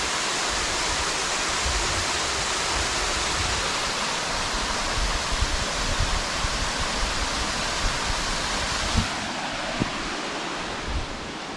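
Waterfall plunging roughly 40 to 50 feet on the Appalachian Trail near Route 183, a steady loud roar of rushing water heard up close with no one speaking.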